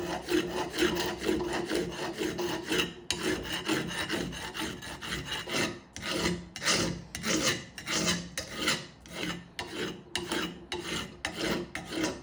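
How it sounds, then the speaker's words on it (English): A hand file rasps steadily across wood in continuous back-and-forth strokes, close and fairly loud, with brief pauses between bursts of strokes and no voices. "it sounds like the filing is really aggressive, but it actually isn't."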